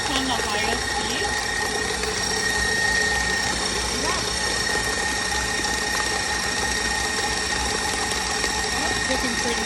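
An electric mixer at its highest speed beats chocolate chip cookie dough, giving a loud, constant mechanical whine with a ratcheting buzz that holds unbroken throughout.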